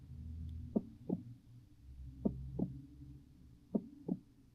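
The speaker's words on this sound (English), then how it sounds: "This one is a heartbeat." A SoundMe noise machine plays its heartbeat setting: steady paired lub-dub thumps, three pairs evenly spaced, low and soft over a faint hum, with no voices.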